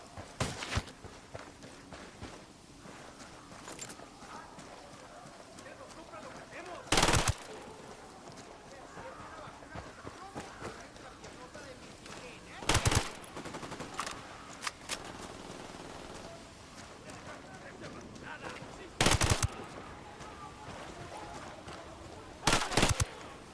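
In the video game Ghost Recon Wildlands, sharp gunshot bursts crack out at regular intervals, about four loud volleys over a quieter bed of footsteps and movement.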